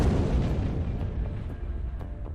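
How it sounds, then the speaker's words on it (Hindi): A parcel bomb hidden in a cardboard-boxed wedding gift detonates, giving one loud low boom that rolls into a long, decaying rumble with no voices. "धमाका।"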